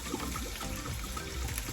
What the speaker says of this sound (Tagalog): Dilagyan ko na lang ng tubig.